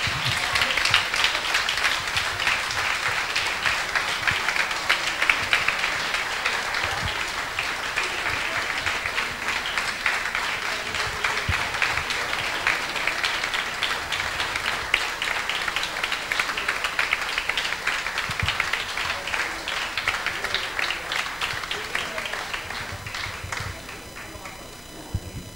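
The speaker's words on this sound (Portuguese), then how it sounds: "uma grande salva de palmas de homenagem póstuma ao Júlio." A crowd applauds steadily and loudly at a tribute event for a local radio station in Tomar, dense clapping sustained for about 25 seconds before tapering off.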